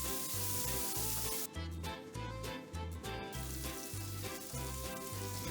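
Amatriciana sauce sizzles in a pan while being mixed, a steady, fairly quiet frying hiss with soft repeated stirring strokes underneath, close by and free of speech.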